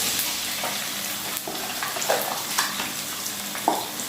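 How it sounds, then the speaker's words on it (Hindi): Onions fry in a pan with a dense, constant sizzle up close, broken by a few scrapes and taps of stirring, no voices present. "इस प्याज को हमें उस वक्त तक पकाना है जब तक कि प्याज लाल ना हो जाए।"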